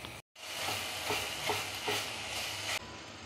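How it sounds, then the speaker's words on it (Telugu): Ginger garlic paste frying in a hot pan for masala Maggi noodles, a steady loud sizzle with faint periodic stirring scrapes throughout, no talk. "ఇప్పుడు కొద్దిగా అల్లం వెల్లుల్లి పేస్ట్ వేసుకోవాలి."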